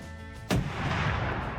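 A .50 caliber rifle fired while hog hunting outdoors sends out one huge, deep boom that rolls on and rumbles for over a second, following a low hum.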